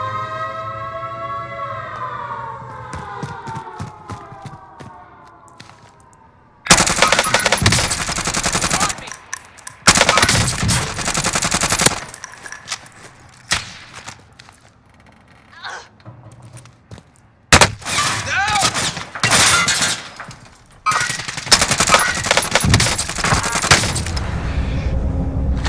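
Machine gun fire bursts out in Call of Duty: Modern Warfare, loud rattling volleys in several stretches between quieter gaps with a rising tonal whine at the start.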